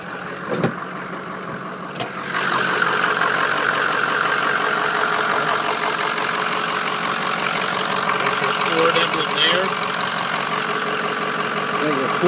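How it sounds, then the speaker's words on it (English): A 2006 Ford F250 diesel pickup engine fires up after a couple of sharp clicks, then settles into a steady, loud, rough clattering idle that continues throughout, heard up close under the hood. "I'm gonna start this thing. People have been asking that they see these vehicles started. Listen to them under the hood."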